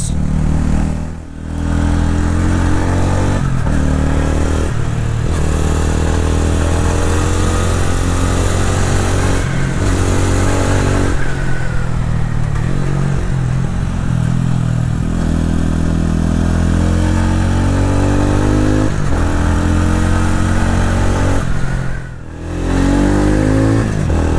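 A TVS Ronin 225 motorcycle rides hard on a winding mountain road, its engine loud and close with continuous revving, rising and falling pitch through corners and brief dips as the throttle closes between accelerations.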